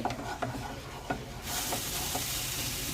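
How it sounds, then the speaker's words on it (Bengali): Ginger-garlic paste stirred into hot oil and melted butter, a few scraping strokes of a spoon in the pan followed by a loud, steady sizzle close by, no voices. "ভালোভাবে আদা রসুনটা মিশিয়ে নিচ্ছি তেল আর বাটারের মধ্যে"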